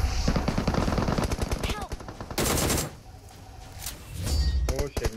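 Automatic gunfire in the mobile battle royale game BGMI: rapid close bursts of shots, a pause with quieter game ambience, then another burst at the end.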